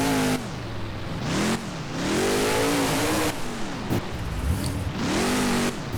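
Nitro Circus monster truck engine in the BeamNG game on a beach, repeated loud revving surges rising and falling in pitch, with brief gaps between throttle blips.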